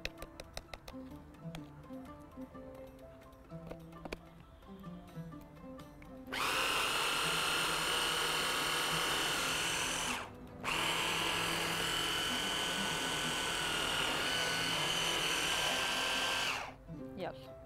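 A food processor minces onion and salt for falafel dough, its motor whirring loudly in two long bursts separated by a short pause, after a quieter stretch of soft clatter at the start.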